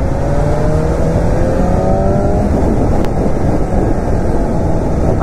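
Sunday road traffic passes around a moving motorbike, a loud continuous rumble of engines and road noise with heavy wind buffeting and a faint horn-like tone, no talking.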